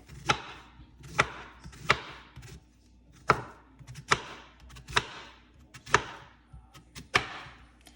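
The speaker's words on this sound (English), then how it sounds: "And then you proceed to cutting it." A knife chops green plantain on a cutting board in sharp, evenly spaced strokes, about nine distinct cuts at a steady rhythm, close and fairly quiet with no talking.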